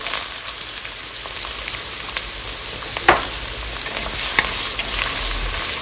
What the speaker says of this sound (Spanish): en una cacerola vamos a agregar media cebolla picada